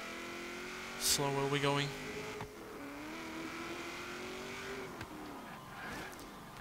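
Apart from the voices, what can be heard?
1971 Chevrolet Vega GT engine revving at the rev limiter, Forza Horizon 3 video game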